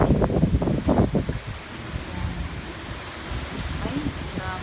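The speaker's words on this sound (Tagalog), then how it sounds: "Naugong ang hangin." Strong typhoon wind roars steadily around an indoor setting during a storm, a broad continuous rushing noise with bursts of talk at the start.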